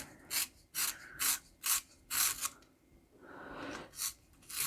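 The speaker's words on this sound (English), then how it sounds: "we'll use the jumbo aperture on this cheap handheld sharpener" A jumbo pencil is turned in the large opening of a cheap handheld sharpener, giving rhythmic rasping grinds, five or six close scraping strokes, then a softer scraping run.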